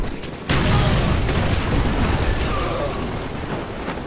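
A loud, booming explosion in the Call of Duty Black Ops video game bursts suddenly, then rumbles on as a sustained low roar that slowly fades over several seconds.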